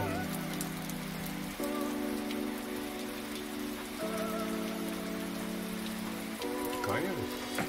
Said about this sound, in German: es regnet ein bisschen.